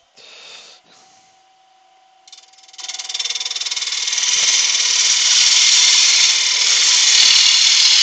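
A gouge cutting a wooden bowl spinning on a wood lathe, starting with a few short scrapes and light contacts, then a loud continuous hissing, shearing cut that builds and holds steady close by.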